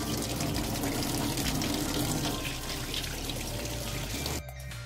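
Tap water runs steadily into a kitchen sink while an avocado is washed under it. The dense, even rush continues for several seconds, then cuts off abruptly near the end, leaving a quiet room.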